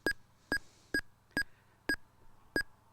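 Six short, identical electronic beeps from a Motorola GM350 radio transceiver's buttons sound at an even rhythm about half a second apart, crisp and close, with faint hiss between them.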